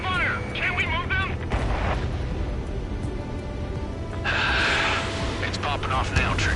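Anti-aircraft guns in the Ace Combat 7 video game fire in a dense, continuous thunder of booming shots and rumble, while voices talk over the barrage throughout.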